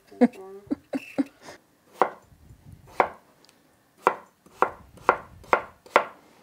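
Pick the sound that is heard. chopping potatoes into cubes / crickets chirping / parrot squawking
chopping potatoes into cubes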